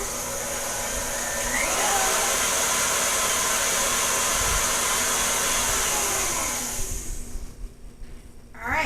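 A steady electric hand mixer whirs continuously as it blends cookie dough pieces into cupcake batter, loud and close, then cuts off near the end leaving a quiet room.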